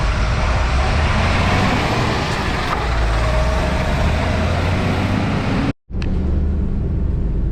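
A motorhome driven hard around a race circuit, a loud steady rumble of engine and road and wind noise filling the cabin, broken by a sudden brief dropout near the end.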